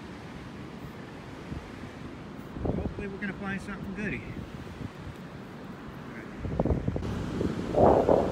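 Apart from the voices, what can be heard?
cold wind blowing at night, wind noise on microphone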